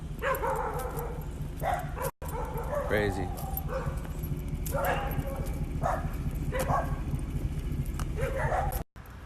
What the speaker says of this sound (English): Dogs going off.